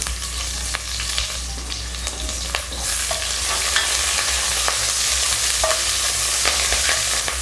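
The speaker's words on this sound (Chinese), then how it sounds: "煸出香味以后，姜片葱段下来" Ginger slices and scallion segments hit hot oil in a wok while braising chicken legs, crackling in a loud, continuous sizzle with scattered pops and the scrape of stirring, close up and without talk.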